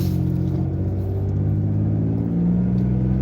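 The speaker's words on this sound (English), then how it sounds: "The motor's still warming up. You can hear shift gears. This is the big block V6." A big-block V6 car engine warms up while driving, a steady low rumbling drone with a shifting pitch as gears change, close and moderately loud, with no talk over it.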